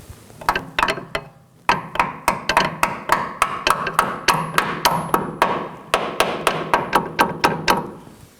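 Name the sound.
hammer striking brake hose clip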